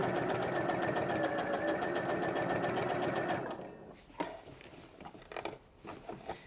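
Sewing machine stitching a dress seam at the facing, a fast even rattle of needle strokes for about three seconds, then stopping, followed by faint handling clicks and rustles of fabric.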